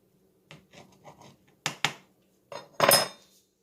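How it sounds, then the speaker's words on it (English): Knife cutting a thick slice on a board, a few quiet scraping strokes followed by two sharp cuts and a final louder chop and scrape, close and isolated. "And then you just slice it. Just like this."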